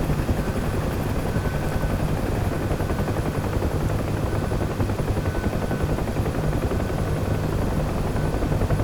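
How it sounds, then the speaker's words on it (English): UH-1H Huey helicopter in the DCS flight game, heard during a heavy landing approach: a loud, steady rotor thump and turbine drone that fills the whole stretch without letup and with no talk. "I attempt to land this heavy aircraft"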